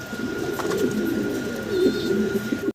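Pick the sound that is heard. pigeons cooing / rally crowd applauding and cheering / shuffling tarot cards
pigeons cooing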